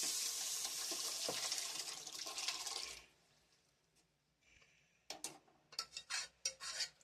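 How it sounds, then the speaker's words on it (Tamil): Lentil water poured into a pot of cooked vegetables for sambar, a steady close splashing gush for about three seconds, then quiet, followed by a few clinking, stirring scrapes of a utensil. "பருப்பு தண்ணி எல்லாம் ஒண்ணா ஊத்துறோம்."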